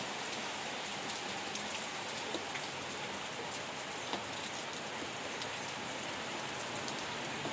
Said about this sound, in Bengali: এই সাইডে দেখো বৃষ্টি হচ্ছে প্রচুর